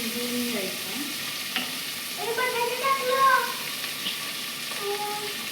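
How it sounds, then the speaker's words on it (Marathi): Curry leaves and chopped onion fry in a hot pan with a steady broadband sizzle, with a few scraping stirs and clinks of a utensil against the pan throughout. "आता मी कढीपत्ता टाकते आणि कांदा."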